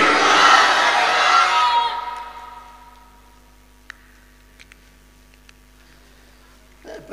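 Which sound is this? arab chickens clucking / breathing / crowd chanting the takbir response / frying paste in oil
crowd chanting the takbir response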